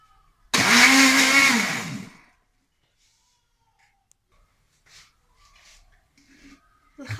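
An electric mixer whirs loudly through chocolate cake batter in a single burst of about a second and a half, then cuts off, leaving near silence with a few faint clicks.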